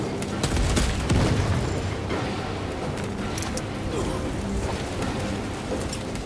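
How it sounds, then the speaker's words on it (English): Frag grenade blast in the video game Space Marine 2, a heavy boom near the start trailing into rumbling, crackling debris and continued battle noise. "Frag grenade"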